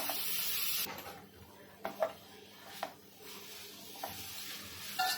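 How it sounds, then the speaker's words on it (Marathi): Cabbage with salt and coriander stirred in a pan: a hissing sizzle at first, then quieter stretches broken by several distinct spoon-against-pan scrapes and taps. "त्यातच आपण थोडी कोथिंबीर पण टाकून घेऊया तर हे छान मिक्स करून घेऊया"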